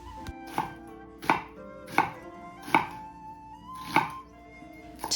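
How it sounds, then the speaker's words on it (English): A knife cuts half an onion into wedges on a cutting board for a Japanese oyakodon rice bowl, six crisp, evenly spaced chops landing close and clear against a quiet kitchen backdrop. "Cut half an onion into wedges."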